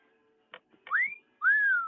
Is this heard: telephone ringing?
no